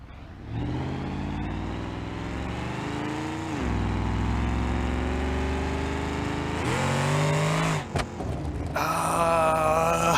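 A simulated truck engine in BeamNG.drive is revved hard past its limit, a loud continuous roar that climbs, steps up in pitch, stutters briefly near the end, then screams higher, with no talking.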